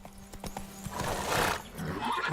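Roach, a horse in the Witcher 3 game, gives a short whinny and a few hoof clops nearby, with a brief crackly burst of game effects and no speech.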